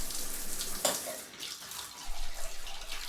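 Cool tap water runs in a steady, close rushing hiss for several seconds, with slight surges in the flow.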